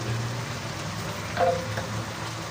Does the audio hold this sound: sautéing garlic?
yes